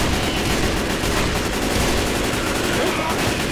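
Dense, continuous gunfire in Left 4 Dead 2, rapid overlapping shots forming a loud unbroken fusillade with voices mixed in beneath.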